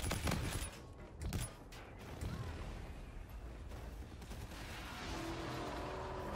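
An aircraft gun run strafing in a video game: a few heavy close blasts open, then a continuous roaring rush of fire and rumble carries on, loud and dense, with no voices.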